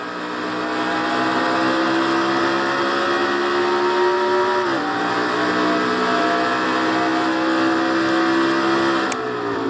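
Onboard engine note of a 1996 Ford Thunderbird race car in a Castrol GTX Cup Series race, a steady loud high-pitched drone holding revs, dipping briefly mid-clip as it shifts, then sustaining again with a faint click near the end.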